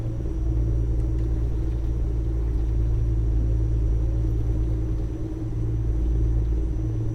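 Truck engine in Euro Truck Simulator 2 with the ProMods map, a steady deep diesel rumble holding an even drone while cruising, loud and close with no talk over it.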